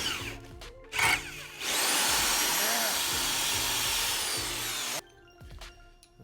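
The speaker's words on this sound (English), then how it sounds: "let me drill this out real fast" A power drill whines steadily for several seconds at close range, drilling a part during a 9hp engine swap on a Kitty Kat, with brief clatter and handling sounds before and after.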